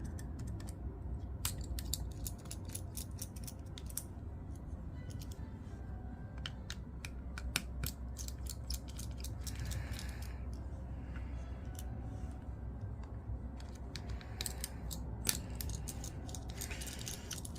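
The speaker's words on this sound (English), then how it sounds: "So let's get rid of these screws." Small screws come out of a KdLinks dashcam during a battery replacement, giving sharp little metallic clicks and ticks in irregular bursts over a low background hum, close by.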